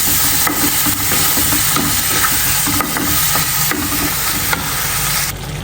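Cumin and coriander powder fry in a pan with a dense, steady hiss, and a spatula stirs it in regular, soft sweeps throughout.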